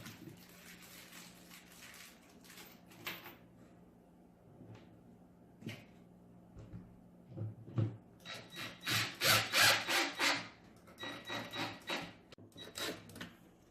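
A screw is driven by hand into pre-drilled holes in a wooden game assembly, making rough scraping and creaking turns. The sounds are sparse and intermittent at first, then build into a quick run of louder rhythmic grinding twists near the end.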